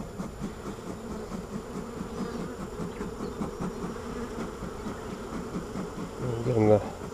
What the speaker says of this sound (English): I have a wall of bees here I need to move so I can put this frame in.